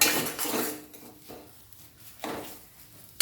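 Carrot chutney with lemon juice being stirred in a pan over a raised flame: a few clattering scrapes of a spoon against the metal pan in short bursts, close and fairly loud, no sizzle evident.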